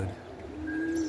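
Roller pigeons in a loft give low, soft cooing that holds steady through the moment, with faint chirps mixed in and no talking.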